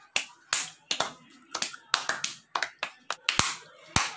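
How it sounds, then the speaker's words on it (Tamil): Hands clap in a quick, uneven run of about a dozen sharp claps in a home kitchen where semolina halwa is being made, fairly close. "கை தட்டுங்க."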